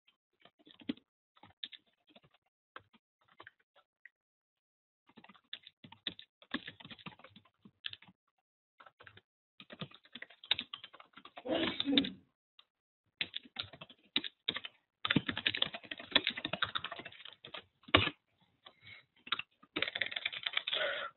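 Code is typed on a computer keyboard in scattered bursts of quick, soft key clicks with short pauses, growing denser toward the end, and no talking.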